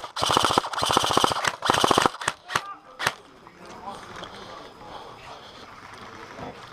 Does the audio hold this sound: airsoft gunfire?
yes